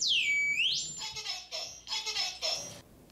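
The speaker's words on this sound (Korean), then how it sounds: "화재 경보기는 불이 났을 때 소리를 내어 화재 사실을 알려주는 소방시설입니다." A fire alarm goes off, opening with a sweeping electronic tone that drops in pitch, then shifting into a run of rapid, pulsing high warbles, loud and near.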